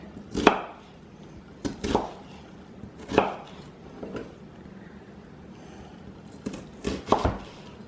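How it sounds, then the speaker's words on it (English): A knife chops an onion on a board in a home kitchen, making close, crisp thuds in uneven pairs and clusters separated by short pauses. "with the onion, cut it as thick or as small as you like"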